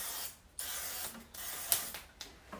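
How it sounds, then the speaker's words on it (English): Oil spritzer pump misting a donut pan, several short hissing bursts of continuous spray with small mechanical clicks between them, close and fairly quiet. "I like it because it's a continuous spray,"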